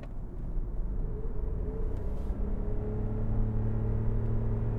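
A 2021 Toyota Yaris engine drones and strains as it accelerates, a low, grating rumbling growl rising steadily in pitch, heard from inside the cabin.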